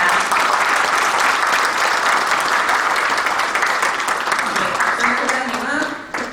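Sustained applause from the audience at the opening ceremony of a defense safety symposium, dense and steady for several seconds before tapering near the end, with voices mixed in.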